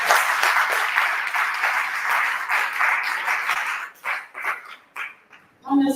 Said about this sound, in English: I think our presenter, Dr. Gideon, deserves a very loud applause